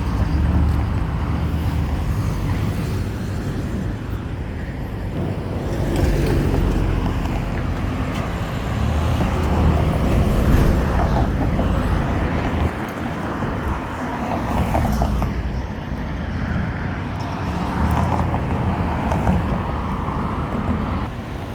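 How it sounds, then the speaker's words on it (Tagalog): Heavy traffic flows along a busy Dubai road, a dense, continuous roar of many passing cars mixed with wind buffeting the microphone, heard from the roadside while walking. "Hindi mo talaga mabilang yung sasakyan."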